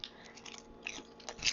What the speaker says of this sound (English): Crunchy, delicious, nice and salty.